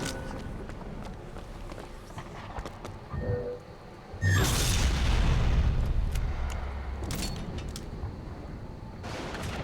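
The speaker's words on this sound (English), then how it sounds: "Ooh, sniper rifle." Gunfire and booming impacts in the video game Bioshock Infinite, with scattered hits early, then a loud, sustained burst of blasts and rumbling near the middle that carries on to the end.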